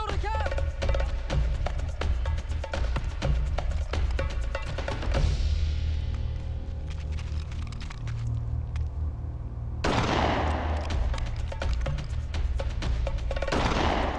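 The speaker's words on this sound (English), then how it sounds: "Everyone was firing." Gunfire with everyone shooting at once in the Arabian desert: dense, continuous crackling volleys and rapid shots layered over a low rumbling bed, fading slightly midway before a fresh burst of heavy firing.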